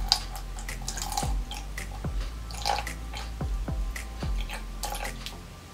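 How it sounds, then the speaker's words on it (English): Cold tap water running into a beaker, a close, steady splashing trickle with small droplet plinks scattered through it and no talking. "fill the second beaker to 50 ml with cold tap water"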